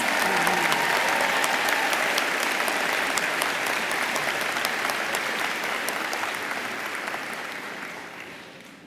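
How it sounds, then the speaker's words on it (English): Sustained audience applause fills a graduation commencement hall for PhD graduates at a college of social work, dense and steady clapping that slowly fades toward the end. "A round of applause for our PhD graduates."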